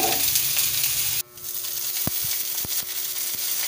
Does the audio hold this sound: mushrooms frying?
yes